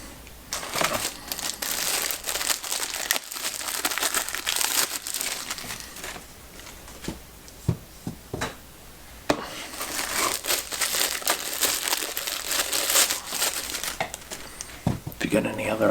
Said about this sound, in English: it doesn't work the same when you're the one opening up all the plastic bags.